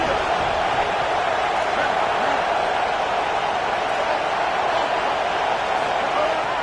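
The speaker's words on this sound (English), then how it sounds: "Listen to this crowd just shaking the girders of this place" A football stadium crowd roars continuously as the defense is urged on, a dense, sustained wall of cheering from a large audience that stays loud throughout.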